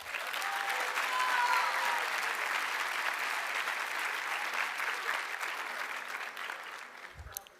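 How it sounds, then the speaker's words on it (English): An audience at a 2024 Cushing Academy commencement gives sustained applause, a dense steady clapping that holds for several seconds before thinning out at the end. "Let's give her another round of applause."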